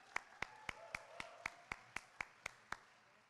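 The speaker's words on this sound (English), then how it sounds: "Another round of applause." Slow, evenly spaced claps at an undergraduate honors and awards ceremony, about eleven sharp hand claps from a single nearby person, fairly quiet with no crowd.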